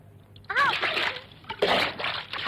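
Two quick splashes of water, as if tossed from a bucket, with a short vocal cry over the first.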